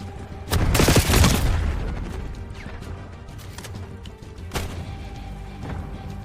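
A frag grenade goes off in a video game as a loud, sharp blast with a rumbling tail that fades over several seconds, followed by a fainter crack and a few scattered thuds.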